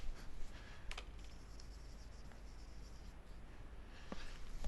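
Chalk writing on a board in a mathematics lecture, faint scratching and light taps against a quiet room with no speech.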